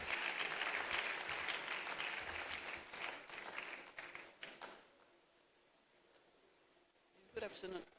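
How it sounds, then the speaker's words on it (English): A conference audience at a corporate social responsibility event breaks into warm applause, clapping strong at first then tapering away into quiet room tone, with a brief voice near the end. "Please give a warm round of applause to Dr."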